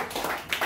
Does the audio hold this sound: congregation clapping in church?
yes